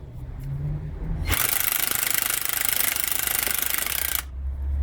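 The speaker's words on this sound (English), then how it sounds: "You can see we unscrew this once at a time, not all the way once, because we will risk to break the tool." A coil spring compressor tool being unscrewed on a car's shock absorber and spring assembly gives a loud, steady rattling impact-tool burst lasting about three seconds, starting and stopping abruptly, with no talk.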